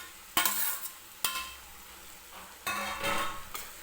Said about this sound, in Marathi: आता हे आपले आपण मसाले वगैरे जे टाकलेले आहेत ते बटाट्यासोबत आपल्याला थोडा वेळ परतून घ्यायचे आहे